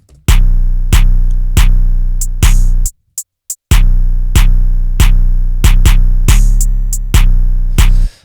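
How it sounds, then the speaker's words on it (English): A trap beat with crisp hi-hats ticking between sharp claps over a heavy booming bass, briefly dropping out to a few isolated hits before the pattern returns. "this is the hi-hat pattern here, following the clap pattern"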